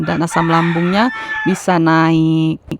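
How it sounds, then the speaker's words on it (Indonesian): A rooster crows loudly close to an indoor room, two long drawn-out cock-a-doodle-doo calls in succession, heard over and between a voice talking. "saat saya dubbing ini ada suara ayam yang berkokok"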